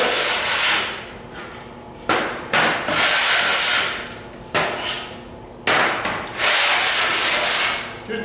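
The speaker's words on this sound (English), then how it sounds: "We'll just smooth the edges a little bit." Edges of a white melamine board are sanded by hand in loud, rasping strokes that come in several long bursts with short pauses between them, close up and without any talk.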